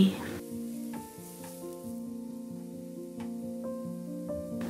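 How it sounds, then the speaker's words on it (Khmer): Crushed garlic frying in hot oil in a wok, a steady close sizzle with soft stirring scrapes and a few light clinks, no talking over it. "ដាក់ខ្ទឹមសដែលខ្ញុំបាន ចិញ្ច្រាំបំបាញ់មិញលីងវាឲ្យឡើងឈ្ងុយ"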